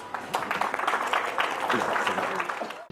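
At a school programme, an audience gives a welcoming round of applause for a guest, a dense wash of clapping that swells and holds before stopping abruptly, with a voice mixed in.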